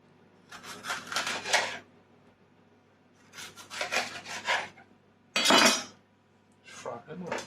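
Vegetables are chopped with a very sharp knife on a board in a home kitchen, coming in several separate bursts of quick close cutting strokes with quiet pauses between.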